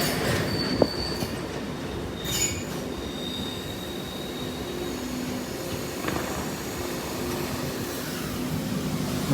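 A railtour train rumbles past the Lincoln High Street level crossing at night, wheels squealing and rails clattering in a continuous loud roar, with no voices over it.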